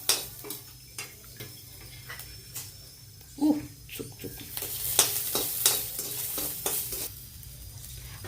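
Garlic and ginger roasting in a little oil in a pan for a Maharashtrian kat amti, giving a soft steady sizzle with repeated stirring and utensil scrapes, plus a brief louder clink near the middle.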